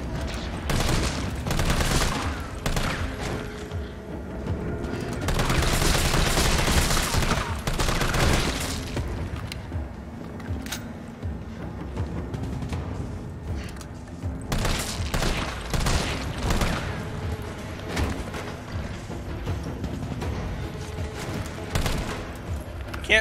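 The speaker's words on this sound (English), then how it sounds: "Can't shoot them outside the window." Rapid gunfire in Resident Evil 3 Remake, with bursts of shots and booms at enemies, loud and continuous across the scene with dense game action and effects throughout.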